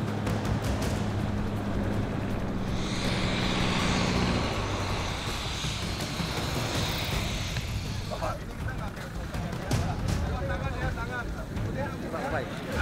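An airplane in flight carrying a Sumatran tiger, its engine and rushing wind making a steady, loud drone under a narrating voice.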